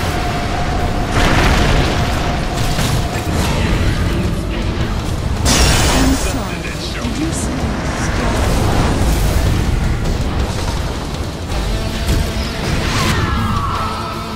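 In the Dota 2 video game, a tower is destroyed with a continuous roar of heavy booms and crashing debris, loud and dense throughout, with several sharp impacts standing out.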